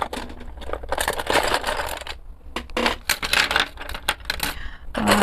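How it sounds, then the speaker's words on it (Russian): Colored pencils are rummaged and pulled out of a box, producing close, busy wooden clatter and rattling clicks in irregular bursts with brief pauses between them. "Достану оттуда необходимые мне карандаши"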